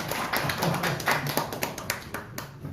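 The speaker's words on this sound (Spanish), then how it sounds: "vamos a aplaudir a ella" Church congregation clapping for a member, a steady patter of many hands at moderate distance with no voices over it.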